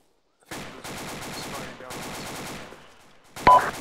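Rapid automatic gunfire sounds during a military video game operation in two sustained bursts of fast rattling shots. A sharp, louder crack follows near the end.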